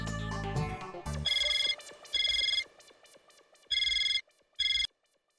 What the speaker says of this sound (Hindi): मनोज भाई को फोन कर लीजिए ना।